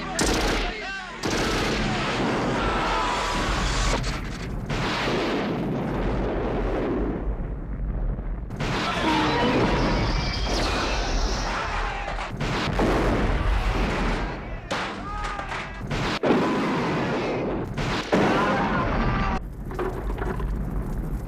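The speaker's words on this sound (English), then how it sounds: "You can have him shoot 5 or 6 rockets out of the rocket launcher that only held 4 rockets." Explosions and gunfire from a rocket launcher in the 1985 action film Commando, a dense, continuous roar of blasts and rumbling over about twenty seconds with brief gaps.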